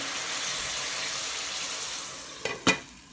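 A sizzling shrimp curry hisses steadily in a pan until water is poured in, setting off two quick splashing bursts near the end.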